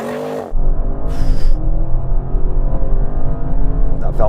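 An Audi RS7 Performance launches hard in an acceleration test, heard from inside as a sudden loud engine surge that keeps building with rising revs and a quick gear change.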